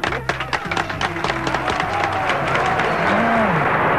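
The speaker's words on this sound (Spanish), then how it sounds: "pido un aplauso para el señor todavía." An audience at a radio anniversary event bursts into clapping that is strongest at the start and then settles into a softer sustained applause, with voices mixed in.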